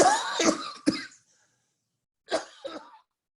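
Several harsh coughs in a quick cluster, then a pause and another short burst of coughing, close and fairly loud.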